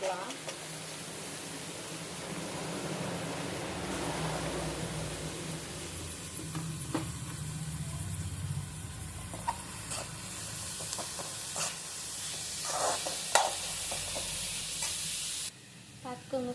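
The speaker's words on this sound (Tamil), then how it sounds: "இப்போ நம்ம கட் பண்ணி வச்சுருக்க பீட்ரூட் ஆட் பண்ணிக்கலாம்." Beetroot pieces sizzle and hiss steadily in a hot pan while being stirred, with scraping strokes and brief clinks over a continuous frying bed, moderately loud and close, with no talk.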